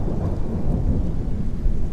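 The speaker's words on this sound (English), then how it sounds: "Why is it always gotta be raining?" Rain falls with a low rumble of thunder in Kerbal Space Program, a dense, steady wash of noise heavy in the low end, loud and unbroken.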